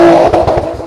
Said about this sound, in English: here we've got another car coming up the hill